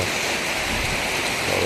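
Rain falling steadily outside, a dense, even hiss of drops close by with no voices over it.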